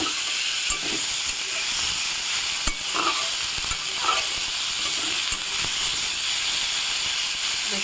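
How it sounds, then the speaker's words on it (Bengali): Onion, tomato and green chilli sizzle in hot oil, a steady hiss of frying with occasional stirring clicks and scrapes, close and continuous. "এই ভাজা তেলটার মধ্যেই আমি এখানে পেঁয়াজ, টমেটো আর কাঁচা লঙ্কা দিয়ে দিলাম।"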